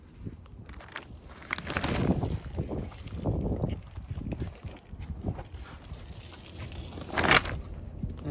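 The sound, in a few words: wind blowing outside a hoop house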